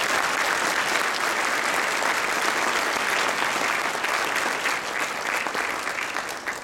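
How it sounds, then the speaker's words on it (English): A crowd at a Calgary leadership award event applauds the sponsor Suncor Energy, a sustained wash of many hands clapping at full strength that eases slightly as it nears its close. "So round of applause, please,"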